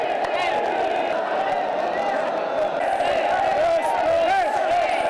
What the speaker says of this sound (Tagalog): Nakabibinging hiyawan.